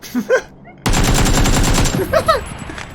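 A loud, rapid burst of automatic gunfire rattles for about a second in the video game PUBG, with short bits of a voice just before and after it.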